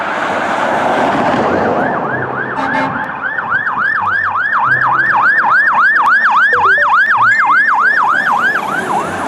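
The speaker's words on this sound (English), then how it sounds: "fire service car." A fire service car siren sounds loud and close throughout, with a fast, regular rising-and-falling yelp over a rumbling background.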